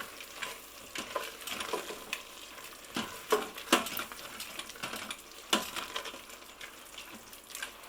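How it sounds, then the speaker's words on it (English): Mushroom risotto being stirred in an Instant Pot after cooking, with residual heat still on: a spoon scrapes and sloshes through the thick rice in irregular strokes, with some sharper clicks against the pot, fairly quiet and close. "We're going to give it a good stir."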